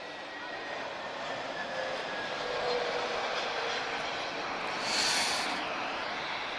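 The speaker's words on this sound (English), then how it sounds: "inbound, we've got an A321neo, or Tango Juliet arriving from Praia" An Airbus A321neo arriving at Lisbon Airport, a broad steady jet roar that swells slightly toward the end, with a voice speaking over it.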